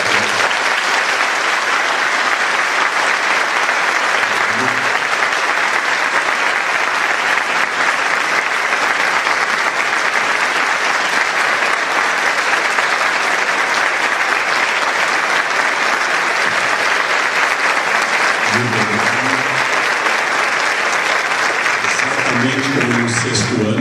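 An audience after an evening lecture gives loud, sustained applause, dense and even throughout, with occasional voices faintly underneath.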